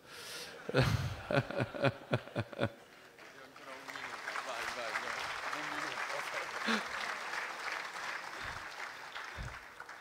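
Audience applause at an Italian engineering conference on building codes, several sharp claps at first, then a steady wash of clapping from a seated crowd with murmurs and a few voices mixed in.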